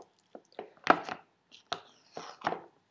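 Organic peanut butter being stirred in its jar, a handful of short, soft scraping and thudding strokes at an uneven rhythm, close and quiet with silence between them.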